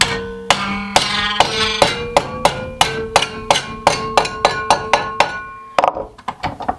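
A metal hurricane strap gripped in a vise is bent over with a series of sharp metallic strikes, ringing clinks that come in an uneven rhythm and speed up toward the end, close and clear with no talk.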